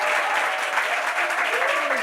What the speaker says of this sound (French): Des applaudissements encore pour vous.